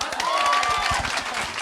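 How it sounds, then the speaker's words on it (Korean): An audience bursts into applause, dense clapping mixed with crowd noise throughout a brief burst, fairly close and steady. "And the last one is 박수."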